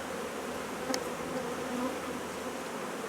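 Honey bees buzz softly at an open hive during brood removal, a steady close drone of many insects with no voices.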